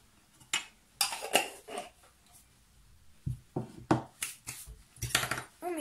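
Quiche ingredients being mixed in a bowl, with a series of sharp utensil clinks and scrapes against the bowl arriving in irregular bursts, close and fairly quiet, with no talking.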